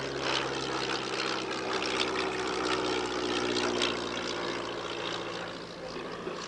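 Koolhoven FK-41 De Soto vintage monoplane in National Flying Services colours, its propeller engine droning steadily and loudly at an airshow, a continuous close pass with no talk.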